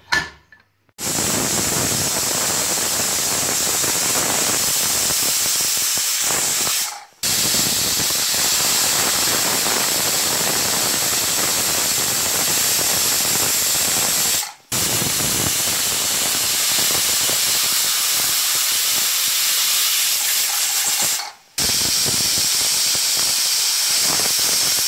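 A pressure cooker cooking beetroot, carrot and tomato soup vents a loud, steady hissing whistle that runs for several seconds at a time, broken by three brief silent gaps.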